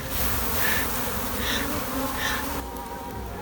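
Honey bees buzz steadily close by, a small cluster with several wings droning in shifting higher tones, then the hum softens slightly near the end.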